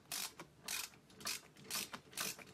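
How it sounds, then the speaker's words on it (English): A socket wrench ratchets while tightening a bolt to mount a Buttkicker on a Playseat Evolution racing seat, a quiet nearby run of about five rhythmic clicking bursts. "you're going to take the socket wrench now, make sure it's the right direction, hook it in, and we're going to start tightening this now"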